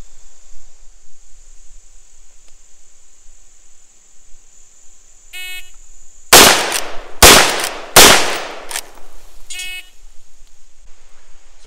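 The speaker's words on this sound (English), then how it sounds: "the shooter has to come up and fire 3 shots into the body of the target" Three quick, loud rifle shots from a Marlin 1894 lever-action rifle on a shooting course, each ringing briefly, set between shrill timer beeps over a steady high electronic tone outdoors.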